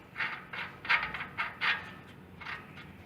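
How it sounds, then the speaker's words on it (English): Short rhythmic metallic clicks and scrapes, about seven in quick succession, as a nut is threaded by hand back onto the flywheel of a 17 horsepower Briggs & Stratton engine, close and fairly quiet. "You put the nut back on."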